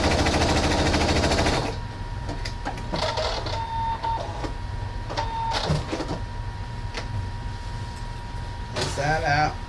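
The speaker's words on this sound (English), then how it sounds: "I love my zigzag stitching." Sewing machine running zigzag stitches on a fabric face mask, a loud rapid mechanical whir at first, then quieter stop-start stitching with clicks, while someone talks over it.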